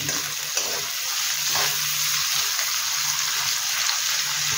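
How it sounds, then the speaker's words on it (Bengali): Onion frying in a pan over a flame for a fish curry with arbi, a steady close sizzle and hiss with occasional stirring, no voices. "এবার এটাকে একটু লাল লাল করে ভেজে নেব।"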